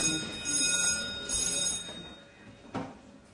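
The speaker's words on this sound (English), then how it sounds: "We'll just check to see if this is a regular alarm or not." An alarm rings in a courtroom during a trial, a high electronic tone pulsing in bursts over a hushed room with thumps and faint background noise.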